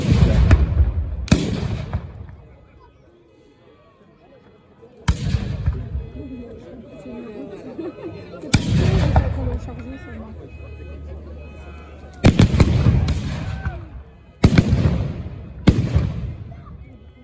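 Muzzle-loading cannon batteries of 6 and 12 guns fire at a 1793 battle reenactment of the Arlon assault in Belgium, with several loud, booming blasts spaced irregularly apart, each followed by a rumbling decay, and a voice talking in between.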